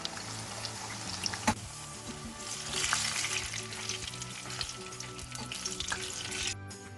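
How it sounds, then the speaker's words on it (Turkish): Steady crackling sizzle of eggplant frying in hot oil, close by, with occasional clinks and stirring sounds, no voices. "Patlıcanları kızgın yağda arkalı önlü kızartalım."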